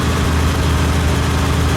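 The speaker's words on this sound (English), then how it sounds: "as you can hear, it's still on choke at the moment, but got a beautiful sound, this exhaust" A restored 1966 Jaguar E-Type idles on choke, its exhaust giving a steady, deep, even rumble that stays close and loud without a break and with no voices over it.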